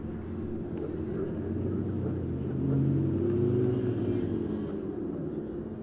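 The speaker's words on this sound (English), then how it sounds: "Here comes the Ferrari." A yellow Ferrari sports car at a Cars and Coffee meet in Morrisville passes with a low, steady engine rumble that swells briefly midway and then eases off.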